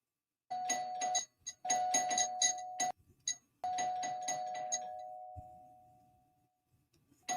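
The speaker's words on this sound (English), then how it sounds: "Hold on, did I hear my bell?" A doorbell rings several times in quick bursts of chiming tones, the last ring trailing off slowly, then a short ring again at the end.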